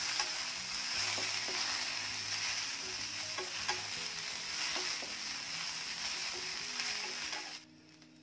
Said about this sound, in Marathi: हे बघा, भेंडी छान आधी भाजून घेऊया।